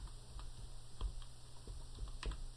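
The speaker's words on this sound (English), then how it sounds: "I'm going to type in keyboard." Typing on a computer keyboard: a run of light, irregular key clicks at close range over a faint steady hum, with no speech.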